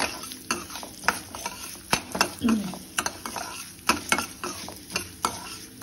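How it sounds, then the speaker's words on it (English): Cumin and mustard seeds fry in a pan for a lady finger vathakuzhambu, with a light sizzle under repeated sharp taps and scrapes of a spoon against the metal. A voice talks faintly in the background. "I have 2 tablespoons of jeera, half a tablespoon of mustard. Fry nicely."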